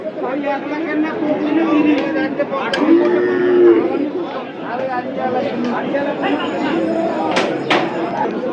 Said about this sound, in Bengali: এখানেও আরেকটি বড় আকারে গরু আছে